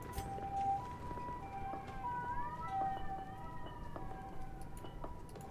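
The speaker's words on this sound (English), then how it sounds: "That's a lot of sirens" Several overlapping sirens wail at moderate distance in the Darkest Dungeon video game, their tones rising and falling in long sweeps over a steady low background rumble.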